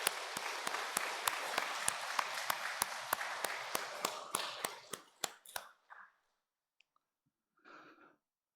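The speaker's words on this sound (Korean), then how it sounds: "우리 환우들과 우리 의원님 열렬한 박수로 환영하도록 하겠습니다." Loud, steady applause from a church congregation welcoming a visiting council member during a Sunday worship service, sustained clapping for about five seconds before dying away, followed by a brief scattered burst of claps.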